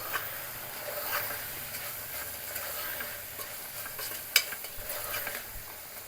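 A spoon stirs coriander powder into a simmering chickpea curry, a soft, steady scraping under a faint low sizzle, close and quiet, with one brief sharper clink partway through.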